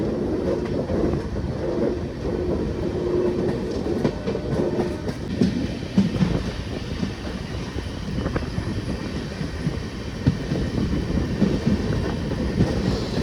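The Mettupalayam bi-weekly express train rumbles steadily along the rails, a continuous heavy roar with faint rhythmic clatter throughout and no voices.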